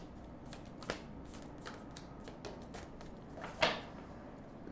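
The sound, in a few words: shuffling and drawing oracle cards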